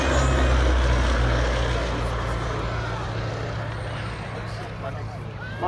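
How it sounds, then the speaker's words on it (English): Westland Lysander aircraft from the Shuttleworth Collection, a steady loud propeller engine drone with strong low harmonics, holding close and then easing slightly, with voices partly audible over the noise. "the Shuttleworth Collection's Westland Lysander"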